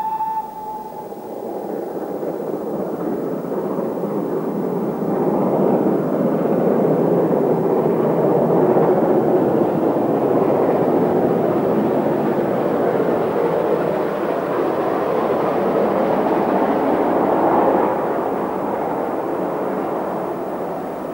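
Great Western Railway Manor class steam locomotive running on a heritage line, a loud broad roar that swells and holds near its peak before easing slightly, with no talk.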